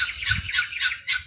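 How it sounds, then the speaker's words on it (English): Several birds chirp and squawk outdoors in a run of about four bright, bursting calls, close and clear over a low rumbling background. "And up as the birds come to say hello."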